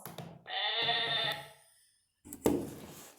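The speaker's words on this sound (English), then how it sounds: "Yes, it's a sheep." A sheep bleats twice, a drawn-out wavering call followed after a short pause by a briefer, harsher bleat, clear and fairly close in an otherwise quiet setting.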